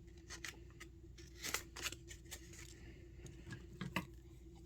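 Scissors snipping folded paper for a Valentine's Day love bug craft, a quiet, close series of short crisp cuts in an irregular rhythm.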